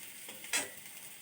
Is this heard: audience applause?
no